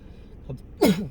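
A single sneeze bursts out abruptly about two-thirds of the way through, fairly loud and close, following a quiet stretch with a faint breath or small vocal sound before it.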